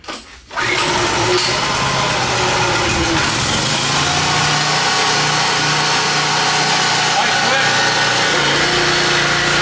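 A flood-salvaged generator engine, later turned into a go-kart, catches after a brief start and then runs loud and steady at a constant high idle close by, with faint voices underneath.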